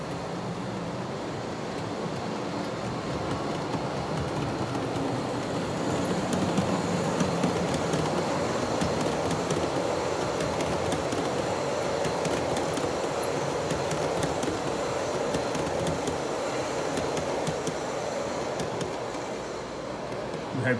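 Model railway shuttle train under DCC Concepts Zen Black decoder control, a continuous close rolling rumble and wheel rattle on track, steady throughout with no speech.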